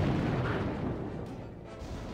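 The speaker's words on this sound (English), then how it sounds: "It looks like actually it's that mortar that's doing the most damage" Mortar fire in the mobile strategy game Boom Beach, a dull rumbling burst that fades over about two seconds, heard alone.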